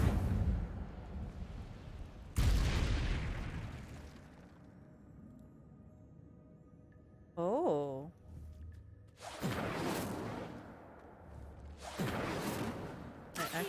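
Incendio fire spell in Hogwarts Legacy during a dueling session, heard as several sudden whooshing bursts that fade out, separated by quieter gaps with a brief tonal game sound in between.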